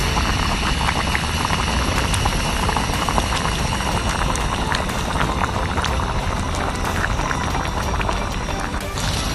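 Yellow-spiced pesmol stew of jaer fish cooking in a pot over a campfire in the forest, a steady dense bubbling and crackling hiss that stays loud and close throughout without pause.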